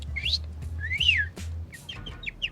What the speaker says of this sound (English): Oh no, it's not, it's just a bird.